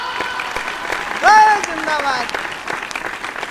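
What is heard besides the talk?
audience applause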